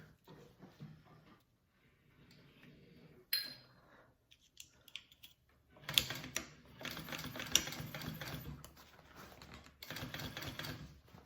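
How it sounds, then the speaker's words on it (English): A sewing machine stitches a slouchy hobo bag's exterior to its lining in several short runs, with quieter handling noises in the pauses between bursts. "I'm just sewing my exterior to my lining."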